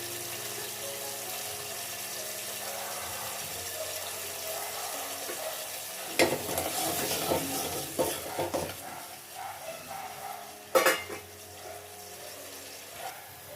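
Mung dal sambar simmers and is stirred in a pot, a soft steady bubbling hiss with occasional louder scraping and clinking of a spoon against the pot, close and without talk.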